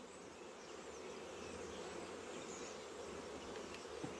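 Honeybees buzz around hives in an apiary during an early spring inspection, making a steady, faint, continuous drone of many insects with no talk.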